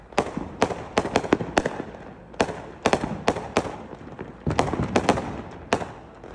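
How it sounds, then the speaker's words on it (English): Neighborhood fireworks in Idaho's Treasure Valley, a rapid, irregular barrage of sharp cracking bangs in clusters, loud and nearby, with echoing booms and crackle filling the gaps between bursts. "You're gonna find the most insane firework displays in all the neighborhoods from all the residents living here in Idaho in the Treasure Valley."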